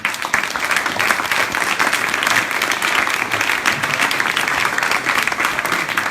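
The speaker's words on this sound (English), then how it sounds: "another big applause to our photographer, Giulia" Steady, dense applause from a tech meetup audience fills the room, many hands clapping continuously at even loudness with no pauses.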